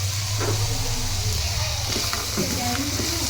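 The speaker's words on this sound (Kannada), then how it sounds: "ಜೀರಿಗೆನ ಸ್ವಲ್ಪ ಎಣ್ಣೆ ಒಳಗೆ ಫ್ರೈ ಆಗ್ಬೇಕಾಯ್ತು" Cumin seeds frying in oil for a Ramzan special vegetable dish give a steady close sizzle and hiss, with a low rumble underneath and a few brief stirring knocks.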